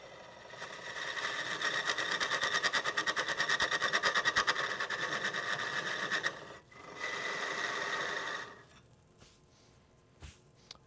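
A wooden sphere, a little under 2 inches across, spins on a wood lathe while a tool cuts it, making a steady, loud rasping whir for about six seconds. The cut stops briefly, then a shorter second pass follows before the sound fades.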